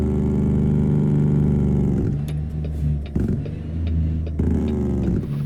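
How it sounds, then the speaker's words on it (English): A custom Kenworth W900 show truck's engine brakes in American Truck Simulator. A loud low engine drone steps down into a deep, pulsing rumble, with a few clicks and shifts and no talk. "Get some engine braking there, albeit I'm moving with some speed."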